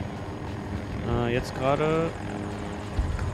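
A tech helicopter passes over Foxtrot in Battlefield 2042, its rotor and engine droning steadily beneath a player's short spoken remark, with a brief whine sweeping upward in the middle.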